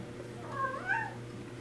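Indoors, a cat meows in the background, with two or three rising, drawn-out calls in close succession at moderate loudness over a steady low room hum. No one is talking.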